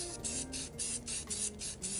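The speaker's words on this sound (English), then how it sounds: "At home, using spray paint, Rustoleum 2X paint and primer," Rust-Oleum 2X paint and primer spray cans in blue and yellow, sprayed at home for hydro dipping a tumbler. Short hissing spray bursts pulse in a quick, irregular rhythm over about two seconds, close by and with no voices.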